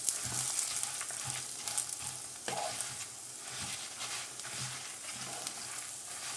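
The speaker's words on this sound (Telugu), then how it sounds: "ఇందులో వేసుకొని ఫ్రై చేసుకోవాలి" Tamarind and curry leaves fry in a pan for an Andhra-style curry leaf pickle, a steady soft sizzle broken by scraping stirs, close and alone.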